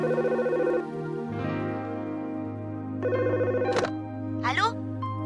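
A telephone ringing in an animated series, a bright electronic trilling ring repeating in two close bursts over a low musical backdrop, followed by brief vocal sounds near the end.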